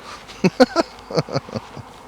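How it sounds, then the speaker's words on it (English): Honey bees buzzing around a hive as field bees return, several short loud buzzes of individual bees passing close by against a faint steady hum. "you have a whole lot of field bees coming back"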